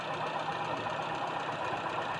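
A Toyota Kijang carburetor engine idles steadily and fairly quietly, giving a continuous, even mechanical hum with a faint rhythmic pulsing and no talk over it.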